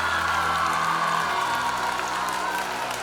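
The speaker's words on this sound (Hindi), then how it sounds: "जोरदार तालियों से बच्चों का स्वागत करें" Applause welcoming children at a school award function, a dense, steady wash of clapping from a seated audience, moderately distant and sustained throughout.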